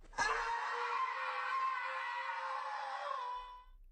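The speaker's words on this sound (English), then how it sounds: "another screams in terror as he is knocked down the ravine" A man screams in terror as a rock slide knocks him down a ravine in a Spanish Civil War scene, one sustained high wail of about three seconds that fades out at the end, heard alone.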